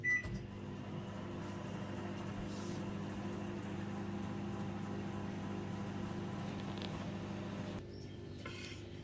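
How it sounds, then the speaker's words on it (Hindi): Microwave oven running while heating chopped vegetables, a low steady hum with faint whirring, quiet and unchanging, dipping briefly near the end. "तो 30 सेकेंड्स के लिए इसे गर्म होने डाल देते हैं माइक्रोवेव में।"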